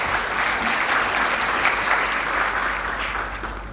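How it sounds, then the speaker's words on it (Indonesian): An audience at a university public lecture claps for an honoured guest, loud sustained applause from a full room that holds steady throughout without voices. "Kita beri aplaus kepada Yang Mulia Pak Daniel."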